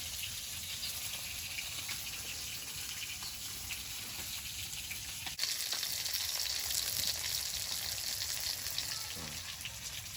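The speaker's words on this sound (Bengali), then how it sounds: "মাছগুলো ভাজা হয়েছে, তুলে নিচ্ছি।" Fish frying in a pan of hot oil gives a steady, close sizzle and crackle that runs unbroken for about ten seconds, with no voices over it.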